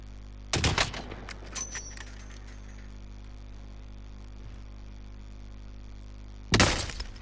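Gunshots in an online shooter game: a short burst of loud shots near the start, a few scattered fainter reports after it, then quiet background before another sharp loud burst at the end.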